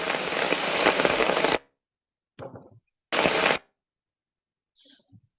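Rain falling in the Annam forest, heard as loud bursts of dense hiss and patter that cut in and out abruptly, with quieter gaps and a faint voice between.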